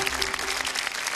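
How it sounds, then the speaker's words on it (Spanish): A loud burst of studio audience applause on the Chilean talent show Talento Chileno, greeting a young psychic contestant; dense, energetic clapping throughout the brief moment. "este aplauso fuerte"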